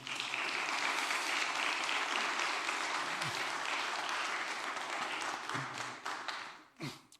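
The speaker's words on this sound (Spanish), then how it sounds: "Denle un aplauso al Señor." Church congregation applauding during a sermon, a loud sustained wash of clapping that fades toward the end with a few scattered final claps.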